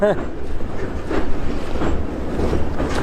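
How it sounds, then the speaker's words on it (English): Freight train carrying crude oil rolling along tracks directly overhead, heard from underneath: a loud, continuous rumble with rhythmic clickety-clack of wagons, and voices talking over it. "So the train's coming right above us."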